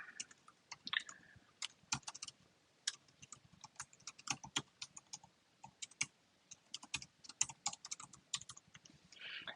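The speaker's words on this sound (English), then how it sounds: "I'm not a fast typer, but here we go" Close, quiet computer keyboard typing in irregular bursts of crisp key clicks and pauses, with occasional louder thumps from heavier keystrokes.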